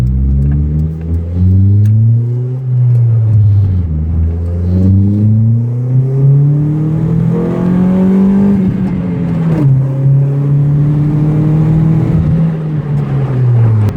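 A car fitted with a straight-pipe exhaust drives hard, its engine rising and falling through several loud revving pulls close by, with no one talking over the raw, droning roar.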